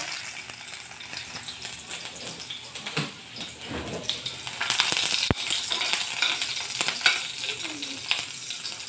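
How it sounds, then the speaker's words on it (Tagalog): Garlic sautéing in hot oil in a pan for squid adobo, a steady crackling sizzle with occasional stirring scrapes, close and moderately loud throughout, no talk. "Gisa muna natin yung sangkap. Yan, mainit na. Una natin yung bawang."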